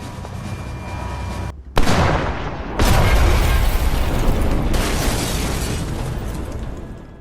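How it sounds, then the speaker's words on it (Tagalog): A sudden loud tank cannon blast cuts through steady rumbling noise, followed by a second heavy boom and sustained roaring din, like cannon fire in battle. "nagkaroon ng isang napakalakas na putok"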